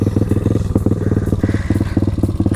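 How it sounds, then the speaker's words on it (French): A YCF supermoto motorcycle engine putters close by in a fast, steady rhythmic chug, loud and mechanical with no voices. "la moto elle fait tellement de bruit"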